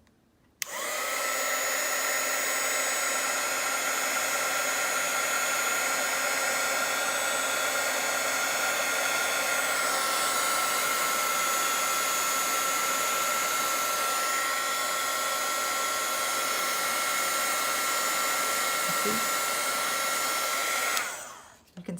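An embossing heat tool blows hot air to melt embossing powder on a craft card, a loud continuous blowing whoosh like a hair dryer that runs steadily for about twenty seconds and then switches off.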